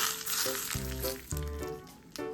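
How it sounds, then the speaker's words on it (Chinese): Hot oil poured over scallion, leek, garlic slices and ginger shreds on cut lamb, a close crackling sizzle in quick bursts that hiss and fade, repeating several times. "淋入滚油"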